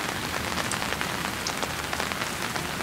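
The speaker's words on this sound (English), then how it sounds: "The showers of rain." A rain shower falls on surfaces in Lagos, a dense, steady patter of drops close by with no voices over it.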